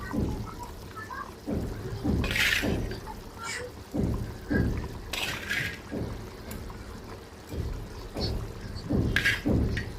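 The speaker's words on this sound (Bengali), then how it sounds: "এই যে এখন আমি মাছগুলো দিয়ে দিব" Hilsa fish pieces go into a simmering potato and pointed gourd curry, bringing a run of close splashing and bubbling bursts over a steady boil, with a few sharp sizzles and clatters.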